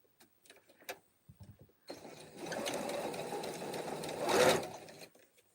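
A sewing machine stitches binding on a mug rug, a few soft clicks and handling noises first, then a steady close whir for about three seconds that swells briefly before stopping.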